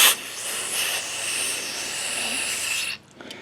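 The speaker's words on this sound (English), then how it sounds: "got another can of the old parts cleaner here" An aerosol can of parts cleaner sprays into the dirty carburetor of a John Deere JS60 push mower left outside over winter, a steady close hiss for about three seconds that cuts off sharply, followed by faint small clicks.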